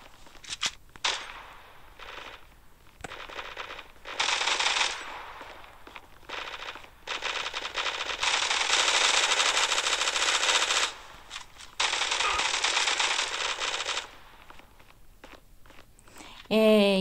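Automatic weapon fire in the mobile first-person shooter Zula Mobile comes in repeated loud bursts of rapid shots, separated by short gaps, with a voice briefly heard.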